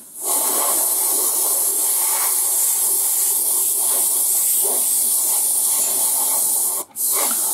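An airbrush sprays AK Gen3 paint onto the lower hull of a scale model, a loud, close, continuous hiss that cuts out briefly near the end before resuming.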